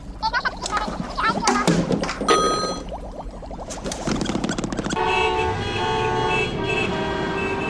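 Car horns honk in a busy street scene, a few short toots early on giving way to a sustained, loud blaring horn through the second half, mixed with traffic noise and some background voices.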